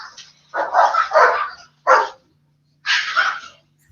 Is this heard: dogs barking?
yes